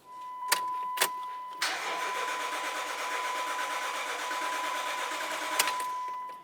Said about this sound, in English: attempt to start the vehicle. What you'll probably find is that the vehicle does start and then stalls out